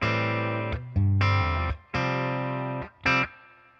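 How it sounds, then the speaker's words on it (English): An electric guitar plays through a Milkman Sound Half Pint 5-watt amplifier with a little reverb, a few sustained distorted chords struck one after another with brief gaps between. "That's just a little bit of reverb."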